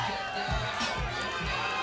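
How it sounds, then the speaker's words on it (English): An excited crowd roars and cheers at a cage fight at Casino Palma, a dense wash of voices with a few thumping impacts underneath. "the crowd is just as excited as we are"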